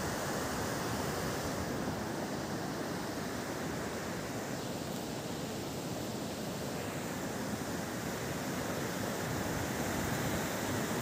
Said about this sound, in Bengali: পার্বতী নদী তলা দিয়ে দেখো বয়ে চলেছে, প্রচণ্ড আওয়াজ, জলের স্রোত